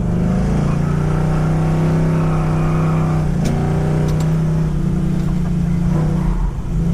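A Chevrolet C10 truck engine revs hard and steady while drifting on an autocross course, a loud continuous roar with strong low harmonics and slight pitch shifts as the throttle varies.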